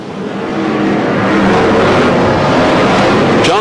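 Brisca F1 stock cars roar away at the green flag for a 1991 oval race, a loud, dense wall of engines building and holding, with a revving car swelling up close near the end.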